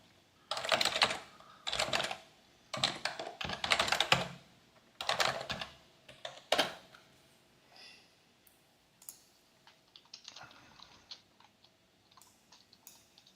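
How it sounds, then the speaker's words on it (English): Rapid bursts of keyboard typing clatter close by, several quick flurries of keystrokes, then tapering into scattered single clicks. "your keyboard is sometimes louder than you are"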